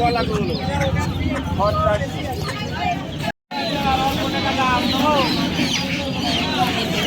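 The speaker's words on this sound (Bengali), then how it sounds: "এখানে চারিদিক দিয়ে মুরগি নিয়ে বসেছে" Chickens and ducks cluck and squawk repeatedly at a 200-year-old village poultry and animal market, close and lively over crowd babble and people talking, with a brief dropout midway.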